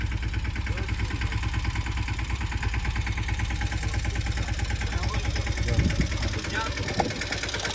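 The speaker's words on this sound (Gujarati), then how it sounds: "મિની ટ્રેક્ટર લાવ્યા છે." A mini tractor engine runs steadily as the machine sits stuck beside flowing Narmada canal water, a continuous close, loud chugging drone with a throbbing beat that holds for the whole stretch.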